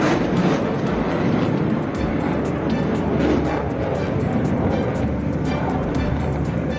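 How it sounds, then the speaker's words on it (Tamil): A Russian Sukhoi Su-57 fighter jet flies at an international air show, a loud broad roar of jet noise that stays steady with faint crowd sounds beneath it. "அதற்கு போட்டியாக வானில் வலம் வந்தது ரஷ்யாவின் சுகோய் 57 போர் விமானம்."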